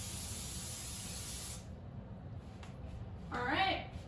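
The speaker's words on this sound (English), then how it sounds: "put the pan out at arm's length and spray" Pan butter spray hisses onto a baking pan held at arm's length over a sink, a steady close spray lasting about a second and a half, then a brief sharper hiss near the end.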